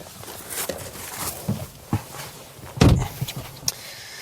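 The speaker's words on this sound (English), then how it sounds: "This frameless door certainly makes it feel like one." A frameless door on a BMW 2 Series Gran Coupe shuts with one solid, close thud partway through, with light handling noises before and after it.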